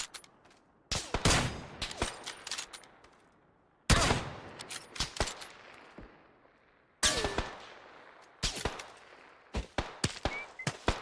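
Loud bursts of automatic gunfire in the battle royale game PUBG arrive in several sharp volleys, each rattling rapidly and then trailing into echoing decay before the next barrage.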